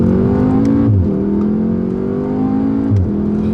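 A 2016 Volkswagen Golf R in racing mode accelerates hard, its engine note climbing steadily through two quick gear changes with brief dips, loud and close from inside the car, with no talk.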